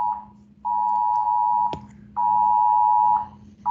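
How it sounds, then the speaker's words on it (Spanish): An earthquake warning alarm beeps in long, steady high-pitched tones, repeating loudly with short gaps, and one sharp click cuts through midway. "ese creo que es la alarma del sismo"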